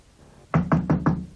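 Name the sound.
loud knocking on a door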